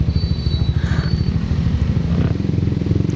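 A Honda CBX motorcycle filters through congested traffic, its engine thumping in a loud, steady rhythmic idle-to-low-rev pulse close up, with faint clatter and distant traffic behind.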